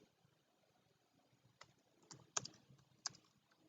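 Keystrokes on a computer keyboard as C++ code is typed, sparse soft clicks building to a few sharper taps, close and quiet with no talking.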